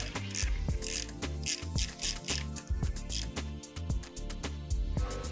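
Quick repeated ratchet clicks ring out close as a 6mm bolt is tightened on a motocross bike in a workshop, the strokes falling in a brisk, uneven rhythm with no talking.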